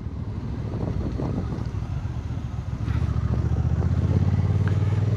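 A Honda NT1100 DCT touring motorcycle riding along a road, a continuous loud engine drone with heavy wind rush, the engine note rising steadily toward the end and no voices.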